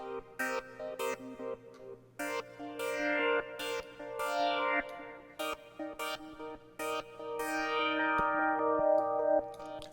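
Grainy, lo-fi synth in Reason with its low-quality setting on, playing short echoing chords and notes in a choppy stop-start rhythm, fairly quiet with reverb tails and no voices.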